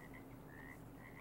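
Frogs croak repeatedly in a steady rhythm at a pond in the fishing game Russian Fishing 4, set against a constant low ambient hum of the game's outdoor environment.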